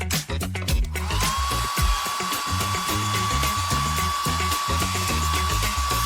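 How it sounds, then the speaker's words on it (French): A hair dryer blows on hair with a steady, high whine that starts after a brief pause and holds continuously over rhythmic background music. "Et on sèche au sèche-cheveux."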